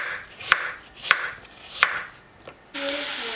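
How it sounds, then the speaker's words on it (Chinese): A knife slicing through a medium-sized apple on a board, three crisp sharp chops spaced apart, a softer fourth, then a brief scraping rustle, close and alone. "将它对半切开，"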